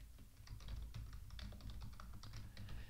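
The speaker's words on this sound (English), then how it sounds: "So you can go ahead and type in those credentials" Quiet, rapid keystrokes on a computer keyboard while login credentials are typed, a steady run of soft, close taps with no speech.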